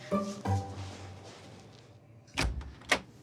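A door is opened in a home during moving-in and unpacking, giving two sharp bursts in the second half of the clip. They come after a stretch of low voices and quiet room noise.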